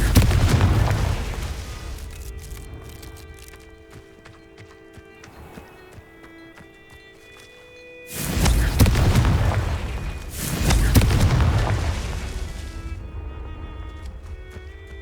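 Blasting-spell explosions from the Confringo curse in Hogwarts Legacy, two loud booming bursts with rumbling tails following a stretch of quieter game ambience, with steady tonal background music throughout.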